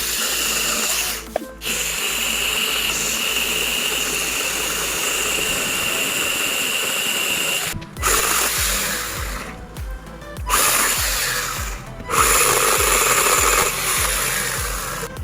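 A Greenworks cordless pole saw runs with a loud, continuous motor whine and chain buzz at close range, broken by several short drops as the cutting pauses and restarts, with no talking.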